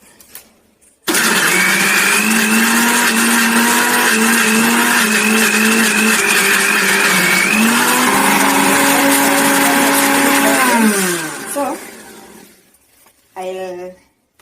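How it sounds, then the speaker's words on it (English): A kitchen blender whirs loudly and steadily for about ten seconds while blending avocados, its pitch shifting partway through, then winds down and stops, followed by a brief knock. "So I'll turn on the blender, and then I'll blend my avocados."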